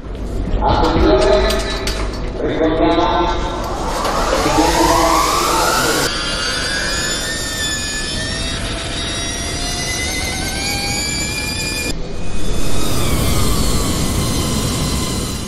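An Energica Ego Corsa electric racing motorcycle gives off a loud, rising electric whine that climbs in pitch as it passes, then a second pass sweeps by near the end.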